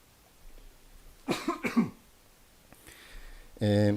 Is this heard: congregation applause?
no